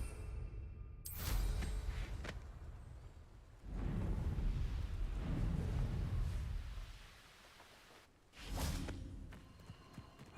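Confringo fire-blast spells burst in Hogwarts Legacy, several loud whooshing explosions with rumbling tails, separated by quieter gaps and no speech.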